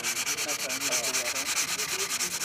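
Sandpaper rubs a soft tree-ring sample in quick, even back-and-forth strokes, about eight per second, close and steady with no talking.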